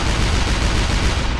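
A tank cannon fires in the artillery game ShellShock Live with a loud, continuous roaring blast that rumbles through the whole moment without pause.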